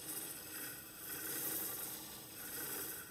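Wood spinning on a lathe against a hand-held turning tool as a sphere is shaped, giving a steady, even rasping scrape that swells and eases slightly throughout, with no voice.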